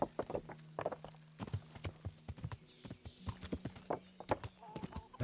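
Horse hooves clip-clop steadily on the ground while riding in the medieval game Kingdom Come: Deliverance, a quick, regular rhythm of close, crisp hoof strikes with a brief whinny and some game sounds around them.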